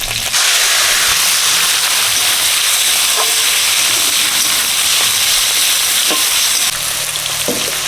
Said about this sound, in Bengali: তেল গরম হয়ে গেছে চিংড়ি মাছ দিয়ে দিচ্ছি